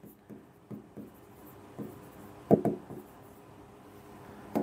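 Handwriting on paper, working through a vector geometry problem, gives faint close pen scratches and taps in an uneven rhythm, with a few firmer strokes standing out.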